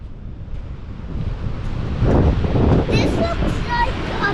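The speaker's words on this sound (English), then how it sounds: "This looks like a beach" Wind buffets the microphone over rushing beach surf, rising in loudness partway through, with a brief higher voice-like sound near the end.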